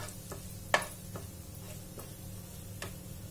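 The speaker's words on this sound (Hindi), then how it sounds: "अब इसके अंदर हम धनिया, हल्दी और लाल मिर्च ऐड कर रहे हैं। इन सभी को अच्छे से भून लेते हैं।" Coriander, turmeric and red chili roast in a pan for a bottle gourd kofta curry, with faint, sparse scraping ticks from a spatula over a low background hum.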